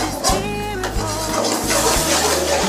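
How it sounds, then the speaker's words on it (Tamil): Milk poured into a pan while making pink sauce pasta, a loud, close, continuous gushing and splashing of liquid, with low rumbling from the pan underneath. "இப்போ வந்து நம்ம பால் ஊத்திடலாம்."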